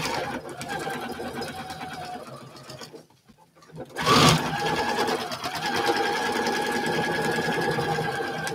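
A quilting sewing machine stitches through fabric with a steady, rapid mechanical chatter. It pauses briefly partway through, then resumes loudly and runs on continuously.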